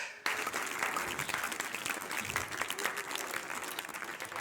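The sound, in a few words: people applauding themselves after a training session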